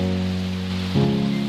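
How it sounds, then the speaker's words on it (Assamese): Steady rain falls on a village just after a storm, a continuous close hiss with a low tonal hum running underneath, and no voices. "আমাৰ গাঁৱত ধুমুহাৰ আক্ৰমণৰ পিছত চাব পাৰে আপোনালোকে বৰষুণৰ আক্ৰমণ কেনেদৰে ভৰাই পেলাইছে"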